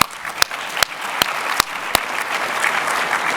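A conference audience gives a quick round of applause: a soft, even patter of clapping from a crowd, with a handful of sharp, louder individual claps standing out at regular intervals.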